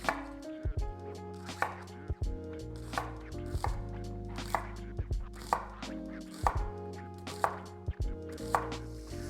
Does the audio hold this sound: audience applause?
no